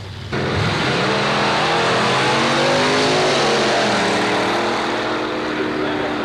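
A vintage drag racing car at the 1990 San Diego Antique Drags at Carlsbad Raceway accelerates hard, its loud, close engine roaring continuously and climbing in pitch through the run.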